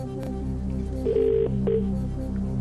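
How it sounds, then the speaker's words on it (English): Telephone ringing out for a phone-a-friend call on a TV quiz show, a couple of short electronic tones sounding over a steady low studio hum. "I'll ring Paul, please"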